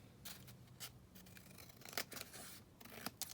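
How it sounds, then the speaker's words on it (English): Scissors snip along the edges of a sheet of patterned paper from a 12 x 12 pad, a run of short, crisp cuts at close range with small paper rustles between them and no talking. "I'm just going to trim it down just on either edge."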